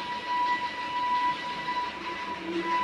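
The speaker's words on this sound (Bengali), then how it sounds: "টয় ট্রেন প্রচুর আওয়াজ করছে" The Darjeeling toy train rumbles past nearby with a steady mechanical drone and a sustained whistle-like tone, loud and continuous, with no speech.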